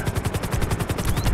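A rapid automatic gunfire burst in a video game, a dozen or so evenly spaced shots rattling out loud and close in quick succession.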